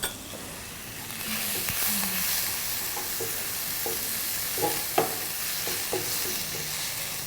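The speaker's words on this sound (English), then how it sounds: "You need to cook the ginger and the garlic" Ginger and garlic frying in a pan with a constant moderate sizzle, punctuated by intermittent stirring taps and scrapes of a utensil.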